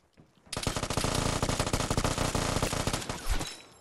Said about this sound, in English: I can hear the fucking gunshots